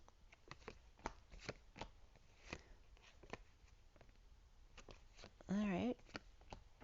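Tarot cards are shuffled and laid out in a quiet room, with a run of soft, quick card snaps and flicks at an irregular rhythm, close to the listener, and a brief voiced sound near the end.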